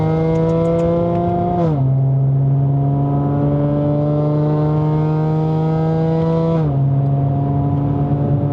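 A Mercedes-AMG C43 4Matic, W205 generation, in manual mode, revs loudly from inside the cabin as it accelerates, its engine note climbing steadily through two gear changes with brief dips between pulls.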